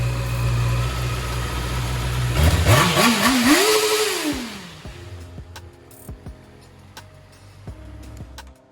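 A 2020 Honda CBR 650 RA motorcycle engine runs close by. It idles steadily, revs up and back down once, then settles into a rougher idle with occasional clicks.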